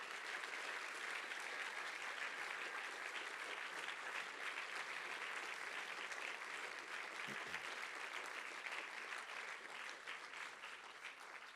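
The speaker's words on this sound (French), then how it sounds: "j'aimerais que vous vous applaudissiez et vous applaudissiez toutes les personnes qui ont fait ce festival" Sustained audience applause fills the hall at a film festival's closing ceremony, steady and dense throughout before easing slightly near the end, with no talk over it.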